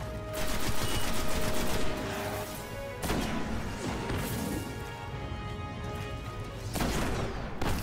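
Gunfire in the video game Destiny, bursts of rapid shots and heavy impacts fill the stretch, fairly faint, with sharp louder blasts at intervals and no talking.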